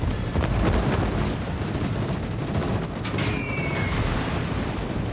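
Dive bombs from a carrier strike exploding on a battleship in World of Warships: a run of heavy booms and cracking blasts over steady rumbling battle noise, with a brief whistling tone near the middle.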